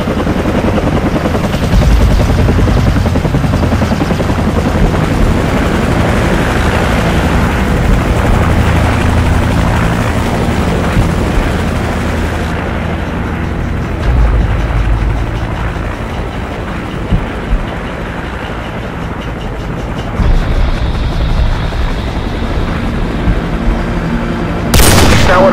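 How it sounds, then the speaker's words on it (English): An enemy helicopter in Call of Duty 4: Modern Warfare roars with a constant rotor drone, mixed with bursts of gunfire and machine-gun fire across the whole stretch. "Take out that helicopter, it'll buy us some time."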